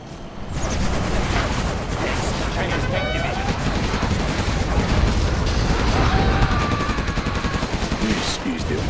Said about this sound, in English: Gattling cannon, the mother of all weapons.